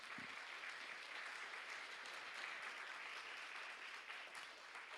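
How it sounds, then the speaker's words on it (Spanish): A church congregation applauds with steady, dense clapping for the full five seconds. The applause sounds fairly distant and even, with no voices heard over it. "Denle un aplauso al Señor por eso."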